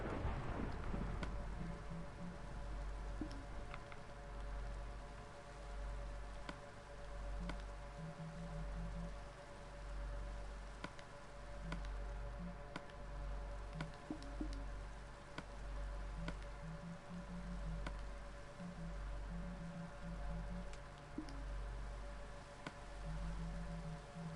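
Steady rainfall from the Minecraft video game, a continuous soft hiss of drops with a low rumbling undertone like distant thunder, faint and unbroken, with no voices.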